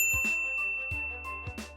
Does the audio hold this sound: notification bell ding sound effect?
yes